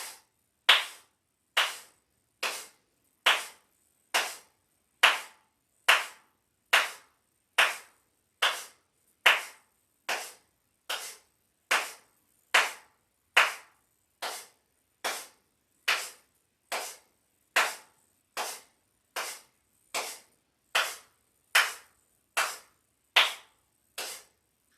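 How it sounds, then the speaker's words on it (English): Steady, evenly spaced hand claps from a yoga instructor pacing breathing, about one clap per second for the whole stretch, crisp and close with silence between each. "you're going to exhale on my clap"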